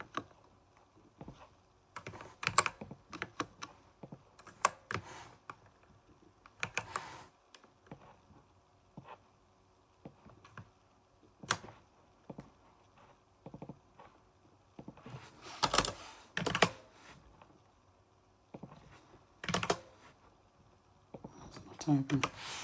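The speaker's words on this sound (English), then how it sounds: "Typing." Scattered bursts of typing on a computer keyboard, quick clusters of clicks separated by pauses, fairly close and quiet in a still room.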